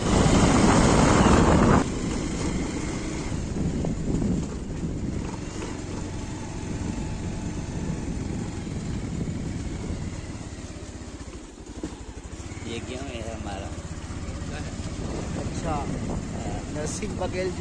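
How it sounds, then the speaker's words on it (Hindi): A motorcycle rides through a village road in India, with a constant loud roar of wind buffeting and engine drone throughout, a sharper gust at the start, and no clear talk heard over it. "बाइक पे जा रहे हैं।"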